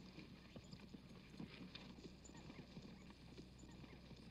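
Horse hooves clip-clop steadily at a walking pace in a 1961 Western film scene, with a faint whinny mixed in, all heard fairly quietly against a low background.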